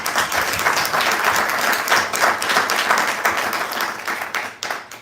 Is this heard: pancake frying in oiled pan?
no